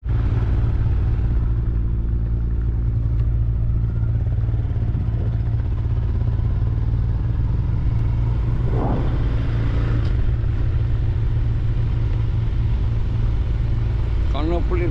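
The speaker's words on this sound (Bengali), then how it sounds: "কর্ণফুলীর পারে মোটর সাইকেলে করে যাচ্ছি।" A motorcycle rides along the Karnaphuli river bank at dusk, its engine a steady, close, continuous rumble with wind and road noise throughout, never easing off.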